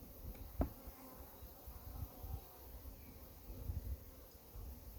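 Faint, steady buzzing of honeybees at a hive hums in the background, with a few soft knocks and rustles up close.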